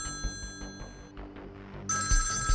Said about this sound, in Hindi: Pick up the phone.